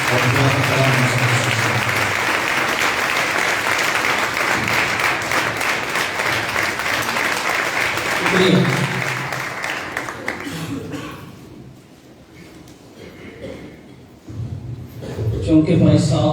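A congregation at a service led by a pastor claps loudly and continuously for about eight seconds. The clapping then thins out and fades, and a voice speaks over the last of it.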